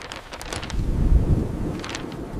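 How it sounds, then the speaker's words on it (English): Strong wind blowing outdoors on a street, a steady low rumbling gust that swells louder midway and stays constant, with no talking. "The wind is quite strong today."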